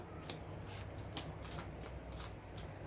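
Tarot cards shuffled and handled in a steady run of soft papery riffles and slides, close and fairly quiet, with no talking.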